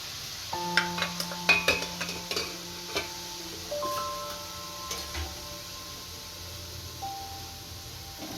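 Sweet boondi batter pushed through a grater sizzles as it fries in hot oil, with a steady crackle and several light tapping clinks from stirring.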